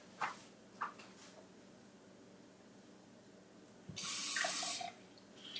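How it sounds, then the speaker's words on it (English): Tap water pours into a greased pan holding bacon, a steady hissing rush of about a second after a few faint clicks and clanks, heard up close in a kitchen with no talking. "So let's get some water in here."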